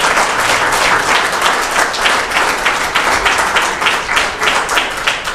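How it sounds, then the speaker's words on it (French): Audience at a sports centre naming ceremony applauds steadily, a dense, even wash of many hands clapping with no voices on top, lasting the full five seconds. "Alors, M. Jean Bellemare, j'aimerais ça qu'on l'applaudisse, M. Bellemare."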